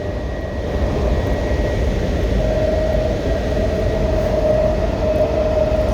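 A Washington Metro Silver Line train runs on elevated track near Dulles Airport, giving a loud, steady rumble of wheels and motors throughout, with a faint high whine rising partway through.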